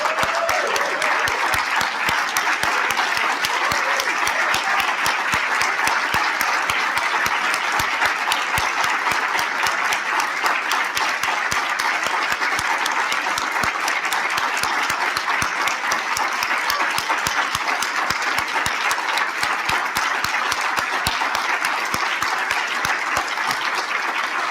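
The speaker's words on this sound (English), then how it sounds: "Please stand and join me in a round of applause for Jim Leather." A standing conference audience at a conservation partnerships keynote gives a long, sustained round of applause, many hands clapping in an even, unbroken wash for over twenty seconds with no talking.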